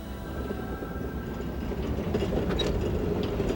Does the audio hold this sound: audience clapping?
no